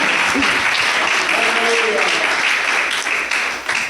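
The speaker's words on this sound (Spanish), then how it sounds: "Alguien de un poderoso aplauso a Dios por la sana doctrina" A Spanish-speaking church congregation breaks into dense, sustained applause, loud and continuous with mingled voices throughout, easing slightly toward the end.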